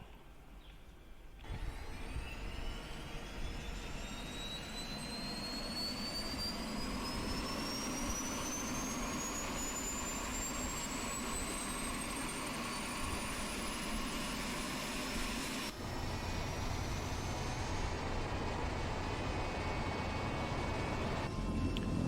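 Helicopter engine spooling up through a full start sequence in Microsoft Flight Simulator 2020: a steady turbine roar with a whine rising in pitch over many seconds, shifting character midway, loud and sustained without speech.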